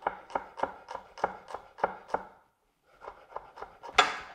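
Basil leaves being finely chopped with a knife on a cutting board, a quick run of sharp, evenly spaced close chops, a brief pause, then another burst.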